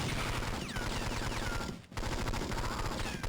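Rapid, unbroken gunfire from 007: Nightfire on the Game Boy Advance, a dense stream of shots with a short gap in the middle, loud and close over chirpy handheld game sounds.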